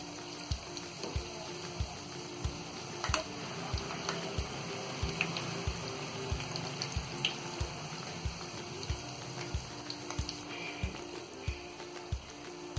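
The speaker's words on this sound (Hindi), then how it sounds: "तो इसे हम मध्य फ्लेम पर रखकर ही फ्राई होने देंगे।" Spinach masala mathri frying in oil over a medium flame, a steady bubbling sizzle with small crackles and soft regular ticks running throughout, close and moderately quiet.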